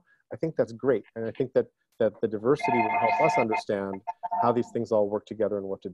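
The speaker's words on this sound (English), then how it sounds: "Apologies for the phone that I forgot to turn off in the background." A telephone rings in the background during an online group call, a warbling electronic ring that repeats through the middle of the clip beneath someone speaking.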